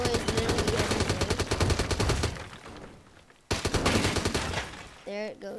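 Rapid military rifle gunfire in the video game Teardown, loud sustained automatic bursts with a short pause in between, then a brief electronic tone at the end.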